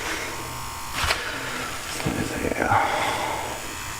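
A Neebol F5 tattoo machine from a tattoo kit runs with a steady electric buzz close by, and a person speaks briefly over it.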